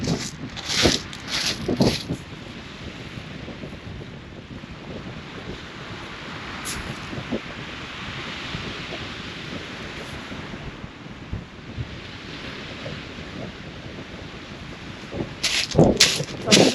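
Wind gusts across a microphone at a West Sussex beach during sea fishing, with surf washing in the background, steady rushing throughout and stronger buffeting bursts near the start and end.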